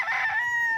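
A rooster at a fighting-cock farm in Tanay, Rizal gives one loud, close crow, a drawn-out call that holds steady and then trails off, with no talk.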